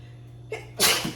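A single sneeze: a short indrawn breath, then a sharp, loud burst of air that trails off quickly.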